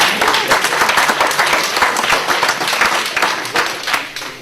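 Applause rises during a political speech, distinct claps sounding in a brisk, fairly close rhythm for over four seconds before thinning out at the end.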